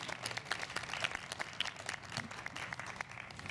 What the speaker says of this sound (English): I want to suggest a round of applause again